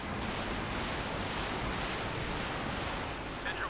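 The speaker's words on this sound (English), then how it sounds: "COH2 barrage" Artillery barrage in Company of Heroes 2: a dense, continuous roar of distant shell blasts and rumbling explosions fills the whole stretch, with a voice talking over the din.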